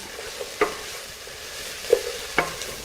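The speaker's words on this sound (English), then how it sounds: "So our onions, you can see, are cooking." Onions cooking in a pot with a faint, low sizzle, broken by a few isolated clinks and scrapes of a utensil stirring, close by and quiet.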